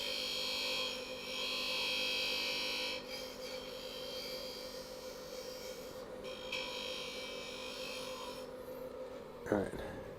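A wooden acorn-shaped lidded box being turned on a lathe gives a steady, close rasping and scraping over a constant motor hum, with brief shifts in texture and a sharper knock near the end.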